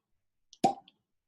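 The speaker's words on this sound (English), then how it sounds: "Nice cork pop." A cork pops from a bottle of Glenallachie 12-year-old single malt whisky, a single sharp close plop with a faint squeak just before and a small tap after, then silence.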